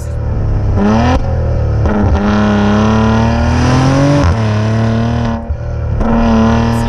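A turbocharged Maserati SUV engine revs and shifts through gears, rising and falling in loud whirring pulls with brief dips between shifts, heard close up.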